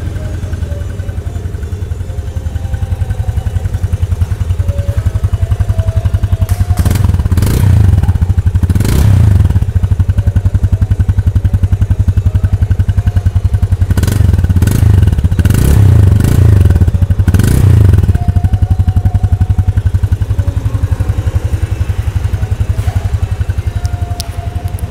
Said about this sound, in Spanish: Ahora voy a encendérselas pues para que tengan una idea de cómo suena esta FZ25.